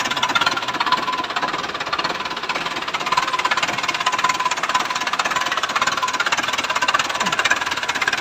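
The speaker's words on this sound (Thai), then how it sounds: "เครื่องเป็นเครื่องยนต์สี่สูบนะครับ" A four-cylinder, 90-horsepower tractor engine running steadily nearby, a loud, even mechanical chugging with a rough knocking texture and no talking.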